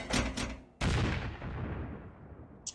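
Cannon in the game Stormworks firing: two quick sharp reports, then one loud boom that decays into a long rumbling tail. Close and loud, with no talk.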